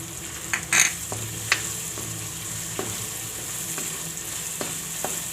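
Chillies and tomatoes fry in a pan with a steady background sizzle. A few sharp spatula clinks and taps against the pan stand out, the loudest near the start.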